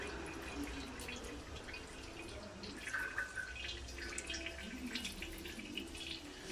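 Engine oil drains from a Fiat Grande Punto in a quiet, steady trickle with faint dripping and spattering, set against low background noise in a garage.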